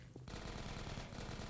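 Rapid automatic gunfire in Half-Life 2: Episode One starts after a brief pause and continues as a fast, even burst of shots, fairly faint and distant-sounding, with no talking over it.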